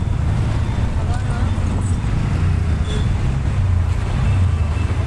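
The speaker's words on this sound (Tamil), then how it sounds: "அவ்வளோ டிராஃபிக்காக இருக்குது" Heavy road traffic rumbles steadily and loudly close by, a dense continuous roar of passing vehicles with no breaks.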